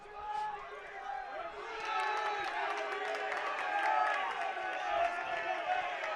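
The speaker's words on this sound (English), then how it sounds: "hear very loud cheer from the Uniov side again" Spectators cheer and shout for the home side at a men's university varsity rugby union match in Sheffield, a sustained crowd roar that swells and stays loud, with voices mixed into the noise.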